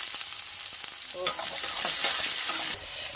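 Cumin seeds and raw onion, added after bay leaf and dried red chillies, sizzle loudly in hot oil in a pan for dal makhani, with steady crackling frying and brief scraping stirs, no talking.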